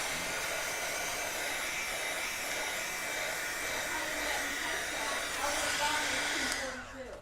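A hair dryer blows in a steady, close whoosh while drying a painted canvas wall hanging, running continuously and cutting off near the end.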